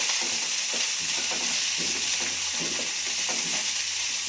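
Washed bitter gourd pieces fry with mustard seeds and curry leaves in hot oil, a steady loud hiss with soft irregular stirring taps underneath.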